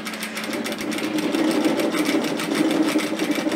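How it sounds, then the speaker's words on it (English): A sewing machine stitches a seam with a 1 centimeter (3/8 inch) seam allowance while making a reusable cup, running in a steady, continuous whir that hums close by with no talking. "stitch that into place with a 1 centimeter, 3/8 of an inch seam allowance"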